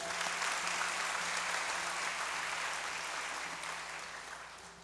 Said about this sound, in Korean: 뜨거운 환영의 박수 한번 부탁드립니다